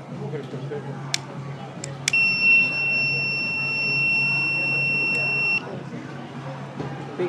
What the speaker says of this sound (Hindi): The fire sensor detects fire and the buzzer makes sound when the fire sensor detects fire.